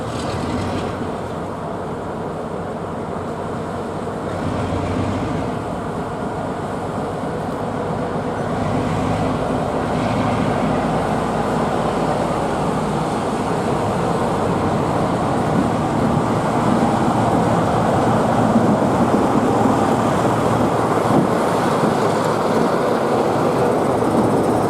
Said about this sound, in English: Now back at Dereham, the 45 departs the train up to the end of Dereham Loop.